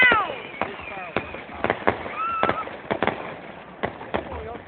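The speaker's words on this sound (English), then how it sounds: "That is loud! This fireworks." Loud fireworks show with a run of sharp, repeated bangs and pops at irregular intervals, some close together, while people talk and exclaim underneath.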